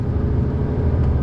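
A MAN truck rumbles along while turning, a steady low engine drone heard from inside the cab, constant and fairly loud.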